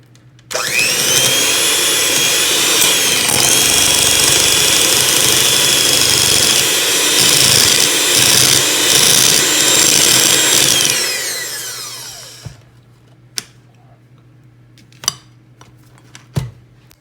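A hand mixer whips cream cheese with whipping cream, sugar and salt in a bowl, a loud steady high whine running about eleven seconds with beaters rattling against the bowl, then winding down, followed by a few light clinks.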